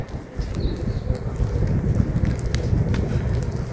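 Cold morning wind blows steadily in Italy, a constant rushing roar with buffeting on the microphone, fairly loud and unbroken, no voices.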